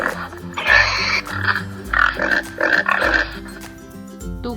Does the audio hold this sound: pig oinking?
yes